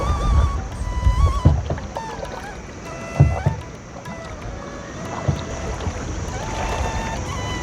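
A small customized wooden boat glides across Egoda Lake in Sri Lanka, with steady water wash and wind buffeting the microphone, and occasional knocks and splashes from paddling.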